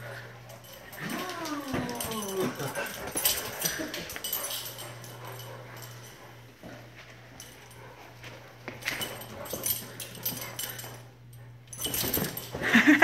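A Great Dane whimpers and yips in short bursts amid scuffling and movement noises during a chase, with a steady low hum underneath.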